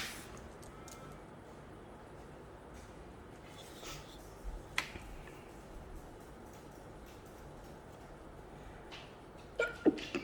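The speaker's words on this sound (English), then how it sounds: "I just sneezed" A quiet room with faint background noise, then a sudden sharp sneeze bursts out near the end, followed by a few small rustles.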